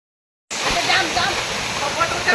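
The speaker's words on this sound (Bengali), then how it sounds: "তো এই দিক থেকে জল আসছে, তারপর ওইদিকে যাচ্ছে, তারপর এদিকে নিচে যাচ্ছে।" A waterfall pours and splashes, rushing water cutting in abruptly and then roaring as a steady, close, loud broadband wash.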